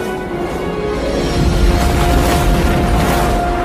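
A large explosion as an aircraft crashes into a meteor in a disaster film, a loud, sustained rumbling roar with a heavy low boom swelling around the middle and continuing dense to the end.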